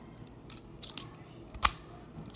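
A small plastic candy toy mechanism gives one sharp, distinct click partway through, standing out from faint handling rustles and light tapping of the toy.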